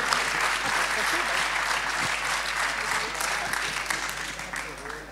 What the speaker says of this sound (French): on vous remercie sous vos applaudissements